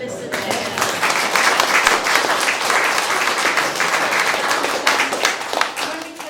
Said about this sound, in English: Let's give Dilys a cheer.